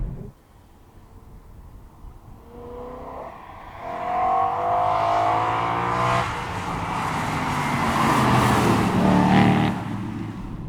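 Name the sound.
BMW E92 M3 engine revving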